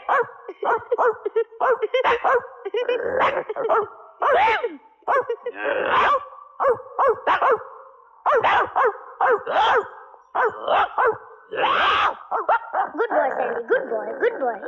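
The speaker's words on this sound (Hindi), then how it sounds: "अरे भौंक भौंक के पूरे मोहल्ले को उठाएगा" A dog barks repeatedly in short bursts with whimpers and yips mixed in, close by, while people talk over it in a film scene.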